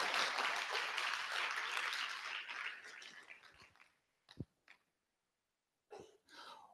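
An audience at a school's State of the School event applauds its performers, a dense burst of clapping that fades out over a few seconds, followed by a few isolated coughs and small noises in a quiet room.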